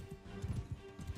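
A horse's hooves clop in uneven, quick beats while riding in the Mount and Blade 2: Bannerlord video game, soft and somewhat distant with a low rumble beneath.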